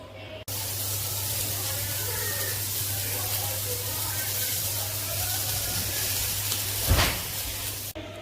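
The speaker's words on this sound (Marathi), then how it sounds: "आता इथे मी खोबरं लसूण अद्रक आणि कांदा आता हे आपण सगळं भाजून घेऊया कढईमध्ये." Coconut, garlic, ginger and onion roast in a little oil in a wok, giving a steady close sizzle and hiss under a low constant hum, with a brief louder stir near the end.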